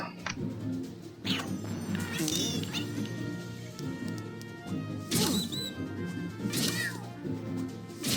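A summoned kitten in a video game lets out several high meows over busy game sounds, with a voice talking now and then.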